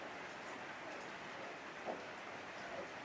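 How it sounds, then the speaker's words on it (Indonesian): Rain pouring down on a sloped durian orchard, a constant, even hiss of falling water with no break from start to finish. "Kalau hujan seperti ini itu aliran air hujan itu mengalir dengan derasnya."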